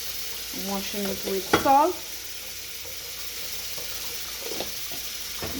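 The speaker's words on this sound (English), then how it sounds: "I have my callaloo in the sink. Already stripped this part, and I'm washing" Water runs steadily into a kitchen sink as callaloo leaves are washed, a soft continuous rush after a short stretch of speech.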